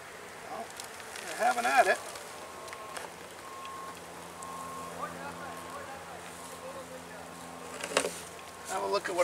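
A steady, droning buzz of many calm honeybees in an opened hive during a late-season check fills the air close by, with occasional rustling and handling noises breaking through.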